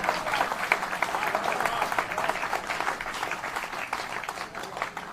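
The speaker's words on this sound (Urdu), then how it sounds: "یہ تالیاں دی آواز آنی چاہیے۔" An audience applauds at a poetry recital, steady dense clapping that holds at an even level for several seconds, moderately loud and without speech over it.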